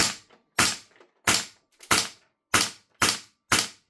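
A Lambda Defence B&T GHM9-G gas blowback airsoft gun fires semi-auto, seven or eight sharp, loud cracks spaced about half a second apart, each with a short snappy decay and near silence between.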